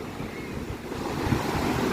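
Sea waves wash steadily onto a beach with a constant roaring surf and some wind noise against the microphone, close and continuous with no voices.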